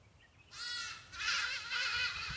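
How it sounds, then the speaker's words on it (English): Ibis birds give a few loud, harsh cawing calls close by as they take off toward the trees near the Bahai Temple in Kampala. "those are ibis birds. They have seen me and they have taken off to the trees"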